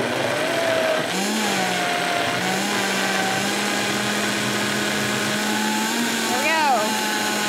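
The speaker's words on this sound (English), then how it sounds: "We're going to go ahead, turn on our blender." A blender whirs steadily throughout as a leafy-green brain-health smoothie mixes, its motor pitch shifting slightly as the contents churn, with faint talk near the end.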